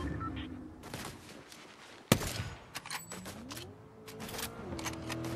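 A single sharp, loud sniper rifle shot cracks in Fortnite, standing out among quieter gameplay clicks and effects.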